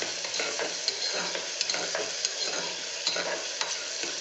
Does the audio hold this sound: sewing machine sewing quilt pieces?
no